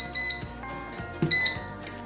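An air fryer set to 400 degrees for chicken wings sounds its timer with a few short, bright beeps, close and fairly loud, with no talking.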